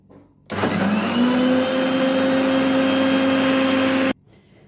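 An electric beater whips malai cream into butter, switching on abruptly for a steady, loud motor whine with a rising pitch that holds for several seconds before cutting off.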